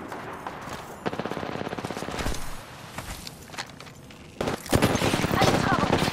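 Rapid automatic gunfire from Apex Legends on Xbox One rattles in sustained bursts, pausing briefly before a louder, denser barrage resumes, with in-game combat sounds layered over it.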